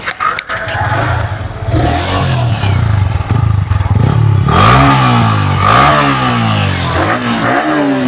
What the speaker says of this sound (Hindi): एंड करने से पहले एक बार अभी R15 का आवाज सुन लेते हैं कैसा रहने वाला है